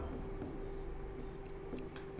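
Chalk or marker scratches across a board in a physics classroom in short strokes and taps, faint against a steady hum of room noise, with no talking.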